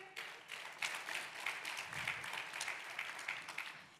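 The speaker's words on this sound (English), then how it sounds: "Please give a big round of applause to our speakers here." Audience applause after a business panel on capital allocation, steady clapping from a crowd lasting about four seconds at moderate, fairly distant level.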